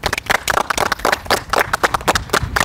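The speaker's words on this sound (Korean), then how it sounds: "박수." A small group claps at a tennis academy after the elite players' team wins a match 2-1. The sharp, close, uneven claps come in quick bursts.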